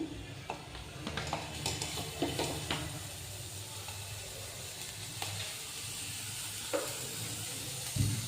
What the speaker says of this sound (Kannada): ಮೊದಲು ನಾನಿಲ್ಲಿ ಈರುಳ್ಳಿನ ಫ್ರೈ ಮಾಡ್ಕೊತೀನಿ.